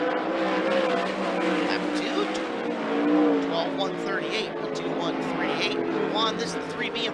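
A 360 sprint car running hot laps at Skagit Speedway, its engine snarling with rising and falling pitch as it circles the track at moderate distance, steady throughout with wavering tones from other engines around it.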